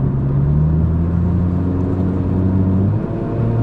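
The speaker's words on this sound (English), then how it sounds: "We're going to hit the brakes here again." Steady loud drone of a Ford Probe driving on the road as it brakes, with low engine rumble and a falling tone near the end as it slows, no talk.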